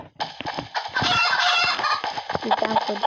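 Chickens in the video game Stickman Party cluck and squawk in a busy, continuous flurry, loud and close, with a clucking rhythm toward the end.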